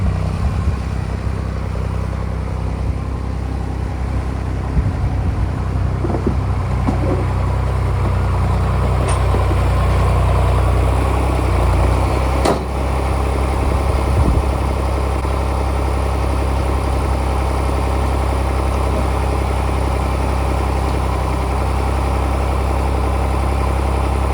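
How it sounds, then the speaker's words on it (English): A loud, steady old tractor engine idles continuously while warming up, a deep rumbling drone with little change throughout. "Got the old tractor on cruise control, warming up."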